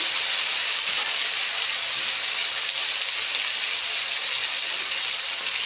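Tomatoes sprinkled with salt fry in a pan for a fish-head mung and masoor dal, giving an even, steady hiss of sizzling oil, close and continuous with no voices.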